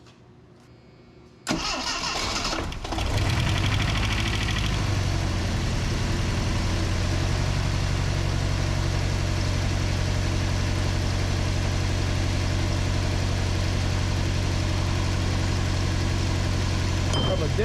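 A Shelby GLHS Dodge Charger with a Turbo 2.2 engine and freshly replaced injectors cranks and fires up after a brief quiet stretch, then settles into a steady, loud, close idle that carries on alone.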